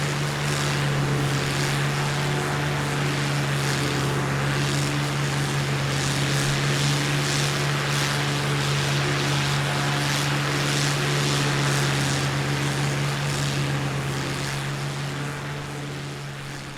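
A simulated MiG-3 propeller fighter in Microsoft Flight Simulator drones steadily at half throttle, a loud, even engine hum with a strong low buzzing tone that holds for the whole stretch, fading slightly at the end.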